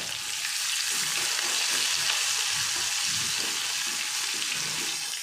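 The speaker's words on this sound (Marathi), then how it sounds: "तर अद्रक लसणाची पेस्ट आता ही छान परतून घेते बघा." Ginger garlic paste sautés in a pan with a few curry leaves, making a loud, even, close-up frying sizzle that holds steady throughout with no talking.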